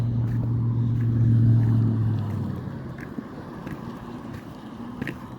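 A loud truck rumbles past near a construction site, a heavy low engine drone that swells for about two seconds and then fades into quieter street background with a few faint knocks.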